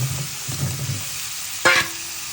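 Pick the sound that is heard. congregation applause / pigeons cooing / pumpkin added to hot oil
pumpkin added to hot oil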